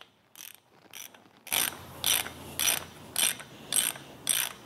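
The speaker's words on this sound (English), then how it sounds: "Tighten it up and then just break the nut free." A wrench clicks repeatedly while breaking a stud nut free during a Mazda Miata coolant reroute, giving six evenly spaced, fairly loud metallic ratchet bursts after a few quieter clicks, with no talking.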